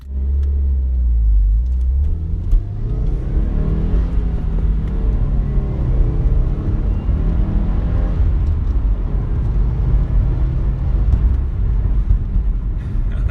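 A 2016 Subaru WRX Premium on the road, its engine a steady low rumble with road and tyre noise, close and continuous, rising slightly in the opening seconds.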